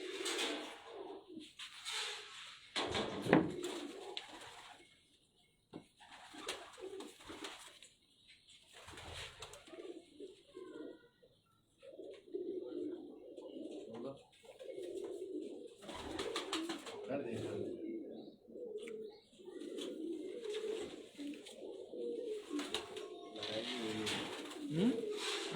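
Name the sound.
pigeons cooing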